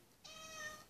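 A house cat lets out a single short, clear meow, quiet and close, against a faint background.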